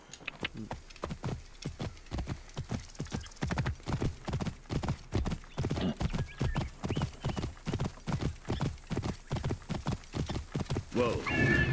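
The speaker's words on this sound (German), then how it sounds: "Pferdchen." A horse gallops in Assassin's Creed Origins, its hooves clip-clopping in a fast, steady rhythm throughout, with a whinny breaking through among the close, loud beats.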